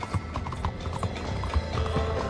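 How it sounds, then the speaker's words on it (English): Two horses gallop away as an audio drama sound effect, with rapid rhythmic hoofbeats close and loud and a brief whinny mixed in. "The two horses galloped away from the town."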